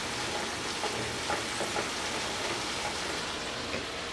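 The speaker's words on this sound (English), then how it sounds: "I have 1 pound of ground beef that I'm browning." One pound of ground beef browning in a frying pan after onions and garlic were sautéed in olive oil, a steady close hiss and sizzle with faint occasional pops and stirring.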